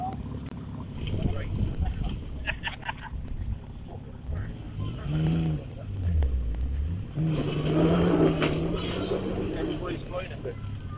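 A car in the 2021 Allen Classic Trial climbs Guys Hill, its engine droning and rising in pitch as it labours up the slope, with people talking nearby throughout.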